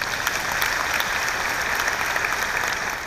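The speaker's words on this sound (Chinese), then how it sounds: "给自己一个热烈的掌声" A seated audience breaks into warm, sustained applause, many hands clapping densely and evenly at a steady level for the whole stretch, with no voices standing out.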